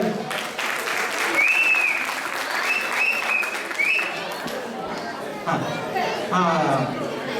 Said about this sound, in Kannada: ಒಂಥರ ಚಪ್ಪಾಳೆ ಹೊಡಿ ಸರ್.